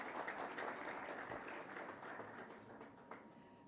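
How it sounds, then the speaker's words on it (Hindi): Audience applause welcoming dignitaries at a Delhi event, a steady broadband clatter of clapping that holds at moderate level for several seconds, fairly distant and diffuse. "जोरदार तालियों से अभिनंदन"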